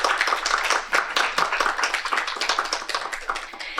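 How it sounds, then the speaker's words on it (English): A room full of people at a memorial tribute claps, dense and sustained, loud and close, continuing throughout without any talking. "Let's just give them a round of applause."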